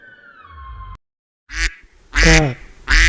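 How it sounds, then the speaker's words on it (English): A duck quacks three times, with short, loud, nasal calls coming in quick succession after a brief tonal sound and a moment of silence. "duck,"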